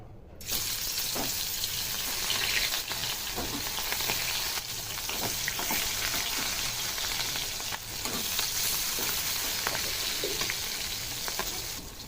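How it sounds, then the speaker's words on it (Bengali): Pieces of catla fish frying in hot oil in a wok crackle and sizzle loudly and steadily at close range, with scattered sharper pops and spatters throughout. "তেলটা গরম হয়ে গেছে মাছগুলো ভেজে নেবো"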